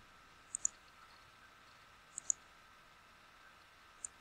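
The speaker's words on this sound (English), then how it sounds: "click on submit button" Computer mouse clicks come as a few faint, sharp double clicks spaced apart over a quiet room hum, with no talking.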